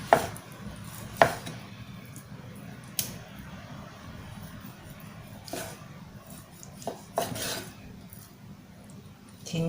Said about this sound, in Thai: เฉลียงมีดลงไปอย่างนี้ เนื้อหมูก็จะได้ออกมาสวยๆ นะคะ เป็นชิ้นสวยๆ